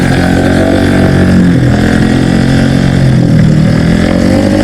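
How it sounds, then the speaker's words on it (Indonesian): Loud motorcycle engine riding into a road toward a housing estate, a steady rumbling drone with shifting pitch that stays close and continuous throughout, with no talk. "Apa sih enaknya pakai motor suaranya begitu ya?"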